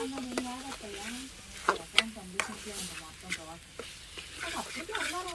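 Ginger garlic paste is stirred in a frying pan for a prawn curry, a utensil scraping over a steady sizzle, close by, while a voice speaks over it.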